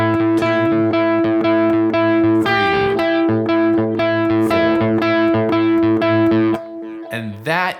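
Electric guitar plays a repeating phrase, clean ringing arpeggiated notes with occasional slides, steady and loud up close, ending with a brief higher flourish.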